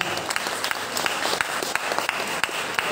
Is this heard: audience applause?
yes